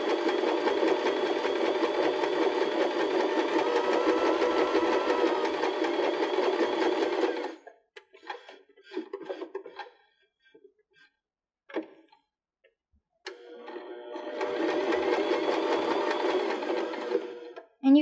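A Baby Lock BL9 sewing machine runs steadily while stitching an appliqué onto cork fabric, stops for a few seconds of quiet fiddling and small clicks, then starts up again for another sustained run.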